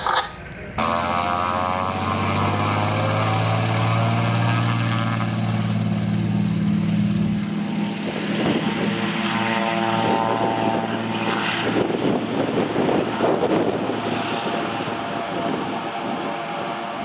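An amphibious de Havilland Beaver floatplane passes overhead at an EAA fly-in in Bemidji, its propeller engine droning steadily and loudly throughout, with the pitch shifting as it flies by.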